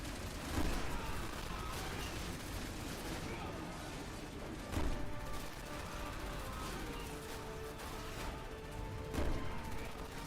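Sniper rifle fire in the video game Resident Evil 6 booms out in three heavy shots spaced a few seconds apart over a dense, noisy game soundscape, with a voice faintly present.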